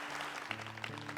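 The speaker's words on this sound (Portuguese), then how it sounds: "Vamos aplaudir a palavra de Deus." A church congregation applauding during a Catholic Mass in Portuguese, a soft, fairly distant patter of many hands beneath sustained organ or keyboard tones, brief and low in level.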